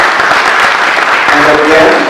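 An audience at a World Bank agriculture programme launch in Tanzania keeps clapping, a loud continuous patter of many hands with a faint voice underneath toward the end.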